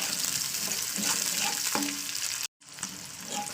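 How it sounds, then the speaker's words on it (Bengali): Two chopped onions frying in hot oil, a steady close sizzle with light stirring clatter and a brief cut to silence partway through. "এবার পেঁয়াজটাকে ভাজা করে দিতে হবে"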